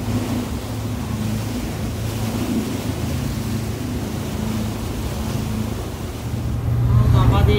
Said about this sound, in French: On va avoir des vagues d'à peu près 3-4 pieds là, en ce moment.